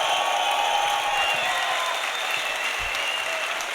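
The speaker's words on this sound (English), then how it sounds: "if you think that's who should win, cheer for Mo." Dense applause from a crowd fills the room, steady clapping at a constant level for a few seconds with no break.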